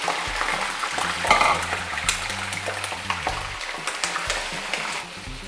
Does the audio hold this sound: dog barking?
no